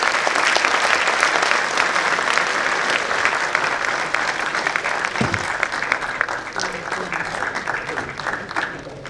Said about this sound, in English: Big round of applause to everybody,